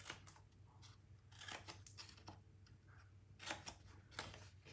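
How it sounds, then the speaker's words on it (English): Scissors snipping along score lines on a small paper tea box, a series of quick close crisp cuts spaced across a quiet room. "we're going to cut up these two vertical score lines"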